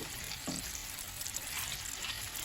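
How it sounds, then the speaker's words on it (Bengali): Chicken liver and neck frying in oil for a broiler chicken bhuna, a continuous close crackling sizzle with small pops and stirring noises, no voices. "ঢিলা কলিজা আছে এটার মধ্যে, গলা, এগুলো ভেজে নেব।"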